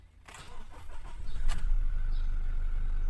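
A 2017 Toyota Fortuner engine cranks briefly with a sharp starter burst, then catches and settles into a steady, close idle rumble.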